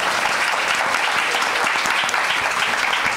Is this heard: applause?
yes